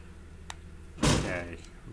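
A door opens in the game Parasite Eve 2, a single sudden whooshing thud that lingers for about half a second after a faint earlier click.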